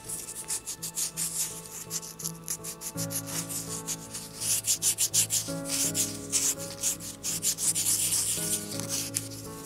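A miniature bowl is hand-sanded with a strip of paper sandpaper, giving steady rhythmic rubbing and rasping strokes, close and fairly quiet, over a faint background hum with no talking.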